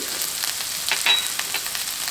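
Cubed potatoes tumble into a hot pan for corned beef hash, setting off a steady, close sizzle with a brief louder burst of crackling as they land, then continuous frying hiss.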